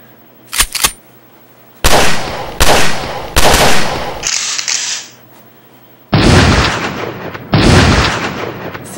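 A Colt 45 1911 pistol fires several loud, close gunshots in uneven succession, each with a short ringing decay, separated by brief quiet gaps.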